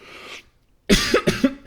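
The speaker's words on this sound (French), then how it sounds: "Depuis que j'ai le Covid, à chaque fois que je bois de l'eau, je tousse." Person coughing after drinking water, three sharp close coughs in quick succession following a brief swallow sound and a pause.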